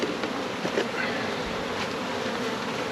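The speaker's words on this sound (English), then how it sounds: "I can tell it's already full of bees, which is good that they've moved up from the brood chamber into the honey super." Honey bees swarming inside an opened honey super above the brood chamber, a close, steady droning buzz that fills the whole stretch without any talk.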